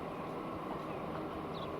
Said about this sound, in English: And here's the other train coming back.